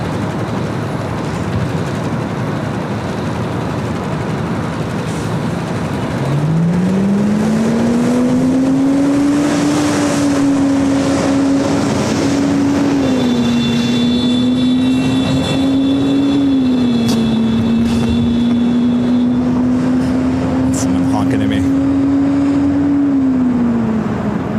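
A large jet airliner, a Queen-liveried Boeing 747 among 787 Dreamliner traffic, taxis toward a north side takeoff at Los Angeles International Airport: a steady loud engine drone with a rising then held whine, continuous throughout.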